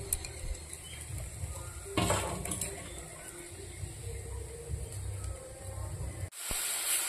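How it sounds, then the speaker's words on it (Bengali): Tempering spices hit hot oil over jute leaf greens, giving a steady broadband sizzle with a louder burst partway through, faint clinks of a pan, and a sudden sharp crackle near the end. "দেখো শাকটা ফোড়ন দিয়ে দিলাম।"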